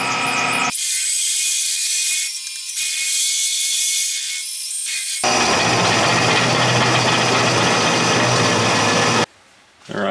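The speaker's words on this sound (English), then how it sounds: "Got it on the mill, we're going to go ahead and surface it up." A milling machine surfacing a metal billet for ladder Damascus, giving a steady high mechanical whine and cutting hiss that shifts to a broader, rougher grinding roar partway through, then cuts off near the end.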